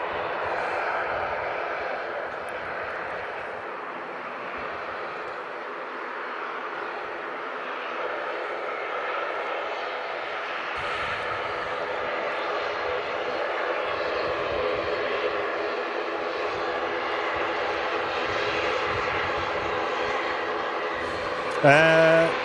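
Airliner engine roar at Manchester Airport, a steady broad drone sustained throughout as an Aer Lingus flight by Emerald Airlines prepares for Dublin, with a brief sharper tone near the end.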